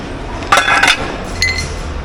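Kitchenware falling and breaking, two quick glassy clinks and rattles, the first louder with a short shatter, the second fainter about a second later, close by over faint background hum.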